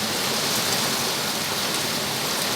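Heavy rain pouring down on a UK garden allotment, a dense, loud and steady hiss of drops with no voices.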